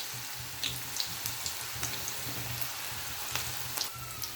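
Aval pakoda batter frying in hot oil gives a steady, soft sizzle with scattered small pops and crackles, close and continuous, with no talking.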